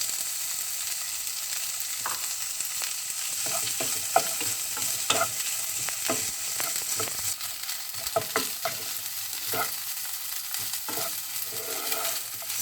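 Pineapple fried rice with ham is stirred in a hot pan, a steady sizzle broken by scraping and tossing strokes of the utensil, close and clear with no talking.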